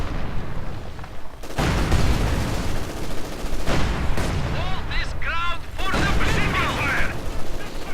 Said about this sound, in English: the 2 tank destroyers fire away with reckless abandon